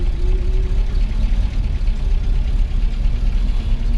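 A 1959 Ford Galaxie 500 engine running after sitting unused for ten years, a loud, steady low rumble close by with a faint tone riding on top and no talking over it.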